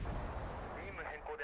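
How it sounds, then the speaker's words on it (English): An artillery barrage opens in the real-time strategy game Wargame Red Dragon, with low, muffled booms rumbling faintly under a voice that talks over them. "There's the beginning of the barrage."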